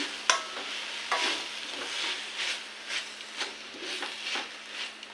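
Tajank (Cassia tora) greens are stirred into a tempering in a pan, giving a soft ongoing sizzle and a series of regular scraping strokes roughly every half second, close by.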